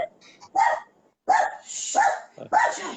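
Household dogs bark close by in several sharp bursts with gaps between them, including a quieter yip at the start.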